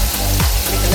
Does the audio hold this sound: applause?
no